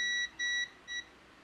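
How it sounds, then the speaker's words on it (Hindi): A multimeter set to continuity beeps while probing a capacitor on a mobile phone circuit board during repair: three short electronic tones in quick succession, fairly quiet, over low background hiss. "दोनों साइड देख सकते हो इसमें बीप आ रहा है।"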